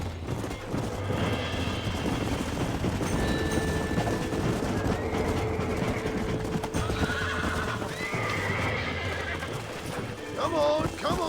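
In the Red Dead Redemption video game, a feisty horse whinnies and snorts while its hooves clop steadily, heard under a man's frequent spoken lines, with a sharp neigh rising toward the end.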